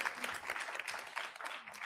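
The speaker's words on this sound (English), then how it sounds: "Let's get a round of applause for them once again." An audience at the LSE Africa Summit, a careers and innovation event, gives a sustained round of applause for the organising team on stage, with dense steady clapping filling the hall throughout.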